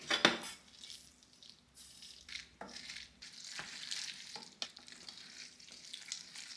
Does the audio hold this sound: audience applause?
no